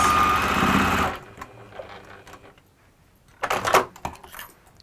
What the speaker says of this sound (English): I'm just going to sew across there just to hold that in place